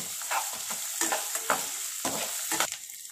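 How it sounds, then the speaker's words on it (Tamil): Ginger garlic paste sizzles and fries in a pan for prawn biryani while a spoon stirs it in repeated scraping strokes, close and steady with no talking. "இதோட நம்ம இஞ்சி பூண்டு பேஸ்ட்டு போட்டுடலாம். நல்லா கிண்டி விட்டுடலாம்."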